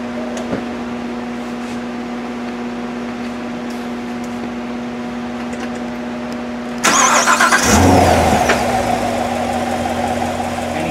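A quiet mechanical hum, then a 2015 Corvette Stingray engine cranks and catches, settling into a louder, steady idle rumble close by.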